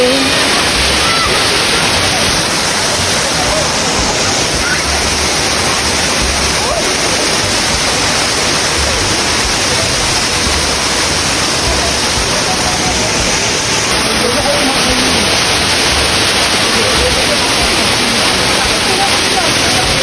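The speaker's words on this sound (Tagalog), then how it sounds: "nakarating na nga kami dito sa Tinago Falls" Tinago Falls waterfall in Iligan City, Lanao del Norte, pouring in a steady, loud broadband roar that fills the whole stretch without a break.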